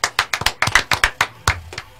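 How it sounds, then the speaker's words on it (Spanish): Clapping in a radio studio during an interview broadcast, a small group of hands giving about a dozen sharp, close, uneven claps over two seconds with no talk over them. "Vamos a recibir un fuerte aplauso al Kofi"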